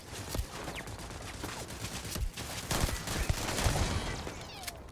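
A full-auto gun in Starfield rattles off bursts of sharp shots amid in-game combat noise, the firing coming in uneven clusters throughout, with no one speaking.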